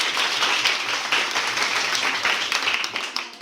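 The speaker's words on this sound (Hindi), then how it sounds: "सर के लिए जोरदार तालियां" An audience gives a teacher a dense, steady round of applause, with many hands clapping loudly and continuously for a few seconds before it tapers off at the end.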